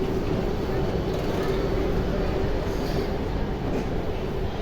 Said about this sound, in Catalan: I el metro ja està aquí.